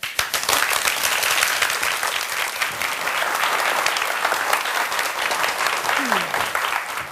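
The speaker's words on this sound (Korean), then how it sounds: "여러분 큰 박수로 맞아주시기 바랍니다" Loud, sustained applause from a large audience at an entrepreneurship talk, welcoming a speaker on stage, fills the room, steady clapping with no pause.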